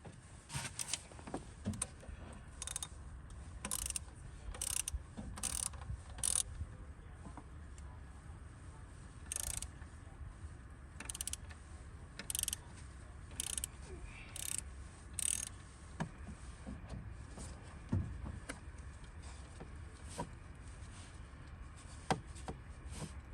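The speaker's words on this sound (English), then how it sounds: "you need an 8mm socket to take these bolts off" An 8mm socket on a ratchet wrench backs bolts out of the crankcase ventilation (CCV) filter housing on a Ram 3500. Repeated short bursts of quick ratcheting clicks come close by over a low background hum.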